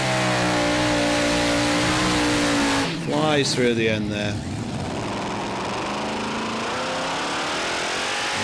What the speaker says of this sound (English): Those engines revving up there